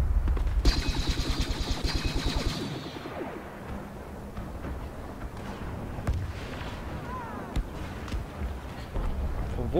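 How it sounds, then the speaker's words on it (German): Rapid blaster and gunfire bursts fill a Star Wars Battlefront battle on Jakku, loud repeated shots early, then scattered, more distant fire with whooshes. "Wo kommen denn da die Schüsse, ey?"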